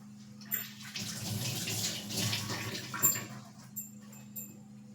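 Peeled potatoes washed under running water, with a steady close splash and trickle lasting a few seconds and a few small drips and knocks as the water stops.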